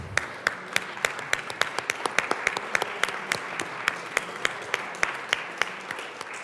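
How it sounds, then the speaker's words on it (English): Legislators in the Colorado House chamber applaud visiting school board members with a dense, steady round of clapping from many hands, with sharper individual claps standing out throughout. "let's welcome them with a warm round of applause"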